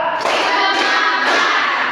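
A classroom of junior high students claps together in a three-count pattern, three sharp group claps roughly half a second apart, close and loud in a roomy space.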